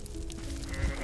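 A sheep bleats in the video game Goat Simulator, a single wavering, nasal call lasting about a second, close and fairly loud, with faint game background underneath.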